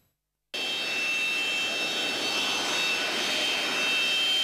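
A steady Embraer 195 passenger jet engine roar starts abruptly after a brief silence, loud and sustained with a high-pitched whine over broad rumbling noise, at Saratov airfield.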